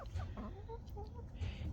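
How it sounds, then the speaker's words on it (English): Backyard chickens near their coop on a cold day, soft scattered clucks and murmuring calls at moderate distance over low rumbling background noise. "My chickens don't want to go in the coop."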